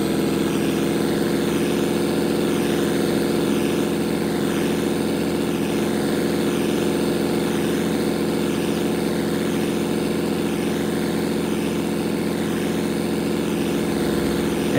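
A pickup truck engine idles steadily in Farming Simulator 22, a deep, rumbling, continuous drone that holds at a constant loud level throughout with no talk over it.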